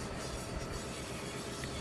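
A train in the Roblox game Rails Unlimited gives off a steady, dense rumble of rolling noise as it brakes toward a stop. It is brief and even, with no voices.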